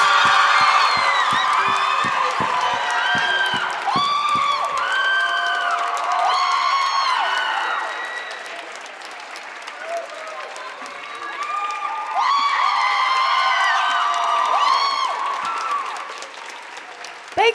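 A live audience claps and cheers loudly to welcome Selena Gomez, with whoops and shouts over dense applause that dips briefly midway, then swells again.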